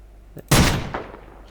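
A single sharp gunshot cracks out from a video game, a loud burst with a decaying tail and a smaller follow-up report, after a faint earlier click.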